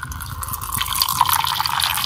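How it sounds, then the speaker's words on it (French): Water from the reverse osmosis filter tap in a camper van, running in a steady light trickle with small drips, close and continuous with no voices. "C'est l'eau qui sort de l'osmoseur."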